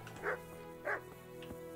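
A dog in the medieval video game Kingdom Come Deliverance gives two short, low grumbling barks and a fainter third sound over steady game background music.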